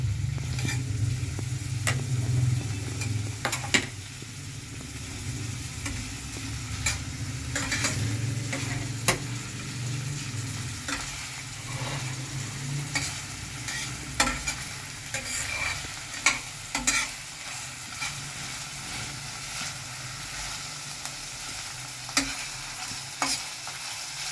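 Onions fry in a pan with a steady sizzle while a utensil stirs them, giving repeated scraping clicks and knocks against the pan at an irregular rhythm, close and moderately loud with no talking.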